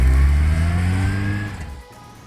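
A Suzuki Hayabusa motorcycle riding through the streets of East London, its engine giving a loud, steady, deep drone close by that slowly fades and drops in pitch, with no voices.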